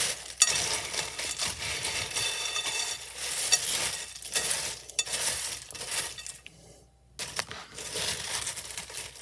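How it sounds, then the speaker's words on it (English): Dry cereal for Muddy Buddies being gently folded and stirred in a bowl, a steady close rustling and scraping with light clinks, pausing briefly near the end before resuming. "And now we carefully mix it in, like folding it, so that way we don't break the cereal."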